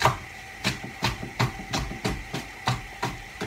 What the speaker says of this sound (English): give them a good old chopping. Make sure you cut them all the way through with a sharp knife